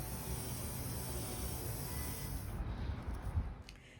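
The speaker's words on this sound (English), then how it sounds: "My neighbor is spraying down his deck." Water spraying from a hose onto a neighbor's wooden deck on a windy day, a steady mid-distance hiss that cuts off near the end.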